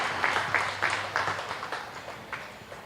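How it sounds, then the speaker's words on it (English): A crowd applauds for the kids who showed heifers in the ring at a junior beef show, a fairly faint scattered clapping that thins out over a few seconds. "Let's give every kid that brought a heifer out into this ring a nice round of applause."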